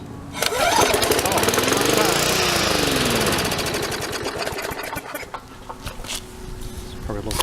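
A Murray walk-behind lawn mower engine starts cold after pull attempts, sputtering into a loud rapid chattering run that rises in pitch, then settles and fades toward an uneven idle near the end.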